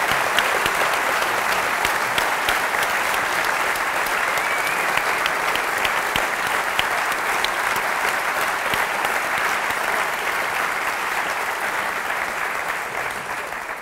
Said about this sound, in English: With a clap.